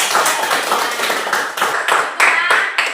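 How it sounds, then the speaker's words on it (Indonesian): A primary-school class claps together in a lively, uneven burst, individual hand claps standing out as separate sharp strikes, close and loud, with no talking. "Wah, tepuk tangan dulu buat"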